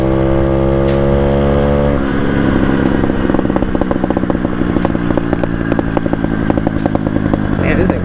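An SSR 125 motorcycle engine runs close up, holding a steady buzzing idle before revving into a harsh, rapid, crackling roar that stays loud to the end.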